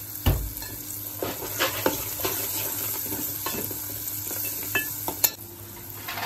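Masala with turmeric and salt fries in a pan with cooked tomato. A soft, steady sizzle runs throughout, broken by occasional scraping stirs and light utensil clinks, with no talking.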